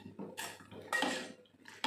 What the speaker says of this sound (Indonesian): Kita aduk, jangan sampai pecah santannya.